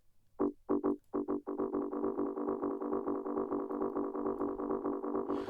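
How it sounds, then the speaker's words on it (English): A distorted techno synth plays staccato notes that smear into a dense, rhythmic pulsing stream as ping pong delay repeats bounce and pile up. "And then I will add a bit of ping pong delay."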